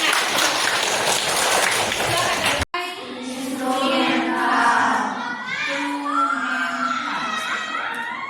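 A class of vocational high school students claps together in a dense burst for about two and a half seconds, which stops abruptly before children's voices take over, chanting or singing.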